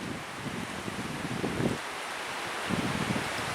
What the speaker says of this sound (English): It's a good wind for drying, not so much for solo canoeing